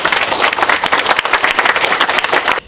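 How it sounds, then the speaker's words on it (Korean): Loud, dense applause from a lecture audience at a commemorative talk, welcoming a human rights activist to the stage; steady clapping fills the whole stretch and cuts off sharply at the end. "뜨거운 박수로 맞이해 주시기 바랍니다"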